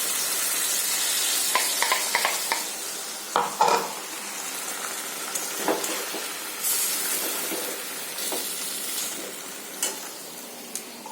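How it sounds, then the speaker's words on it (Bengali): Spiced masala frying in a pan as a splash of bowl-rinsing water is added, giving a steady close sizzle with scattered scraping stirs and brief steam hiss bursts, no talk. "এবার এই মশলার বাটি ধোয়া জলটা একটু দিয়ে দেবো"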